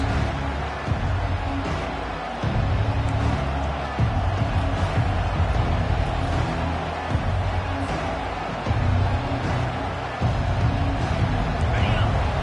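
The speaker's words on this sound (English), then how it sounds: "It's early, but this crowd is fired up. Listen to this noise here." A packed stadium crowd at an Alabama football game roars continuously around the kickoff, a loud, dense, low rumble of voices that swells and dips, with a commentator talking over it.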